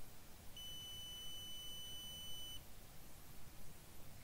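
A single long, steady electronic startup beep from a Xiaomi Yi action camera holds for about two seconds, bright and tonal, then stops, leaving quiet background hiss.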